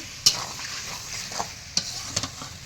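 Potatoes are stirred and fried in spice masala for an echor kosha jackfruit dish, a low continuous sizzle broken by a few sharp spoon knocks and scrapes against the pan.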